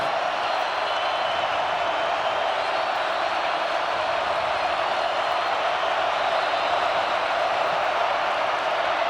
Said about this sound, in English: And the sellout crowd going to go to work